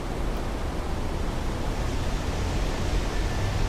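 A powerful river surges through a big eddy called the Devil's Cauldron in the Rift Valley, a dense, steady roar of rushing water heard up close at water level with no voices.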